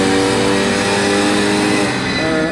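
BMW M5 V10 engine screaming at sustained high revs on a dyno, a loud, dense, unbroken roar filling the whole clip with a slight drop near the end.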